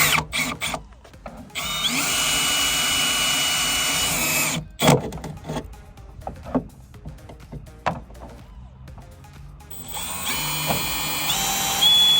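A power drill whines at high speed in a few sustained bursts, drilling small bolt holes in a pickup tailgate, starting and stopping, with clunks and handling noises between runs.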